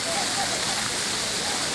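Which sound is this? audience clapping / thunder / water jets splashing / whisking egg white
water jets splashing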